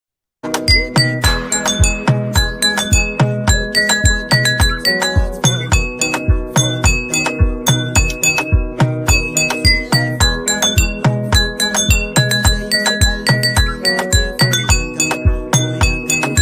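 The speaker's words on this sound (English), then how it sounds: "That sound is the sound of the late bell." A late bell at a school rings loudly and continuously, a fast, repeated metallic chiming that keeps going without pause from start to finish.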